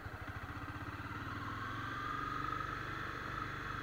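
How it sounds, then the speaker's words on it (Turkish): A Honda CBR250R motorcycle with a 250 cc engine pulls away from close by, its low, pulsing exhaust beat quickening and rising in pitch as the throttle opens and the bike accelerates steadily, with no talking over it. "Yavaş yavaş devreye salarak gaz veriyorum ve ilerliyorum."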